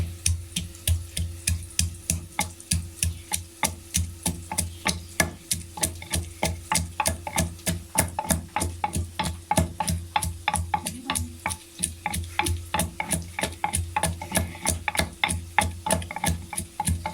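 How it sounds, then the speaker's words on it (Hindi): Ginger is ground for chicken korma in a running electric grinder, a steady rapid rattling whirr with regular rhythmic pulses that continues loud and close throughout, without any talking. "अदरक को अब मैं पीस लूँगी"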